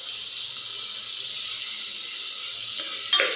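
Tomato rice masala with coriander leaves sizzles steadily in a pan while it is stirred, ending in a brief sharp scrape or clink.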